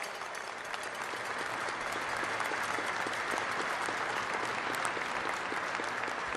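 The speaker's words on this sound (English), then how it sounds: "please get on your feet and give them a r- loud round of applause so they can hear you all the way from the Red Sea" A ceremony audience at a Navy frigate keel authentication gives a loud, sustained round of applause, dense even clapping that fills the hall without pause.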